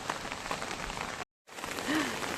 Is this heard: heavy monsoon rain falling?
yes